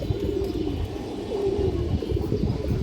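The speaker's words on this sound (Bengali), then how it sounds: "সাপচিরা কবুতর দর্শক" A Shapchila pigeon cooing close by in soft, low, rolling murmurs over a dense, steady background.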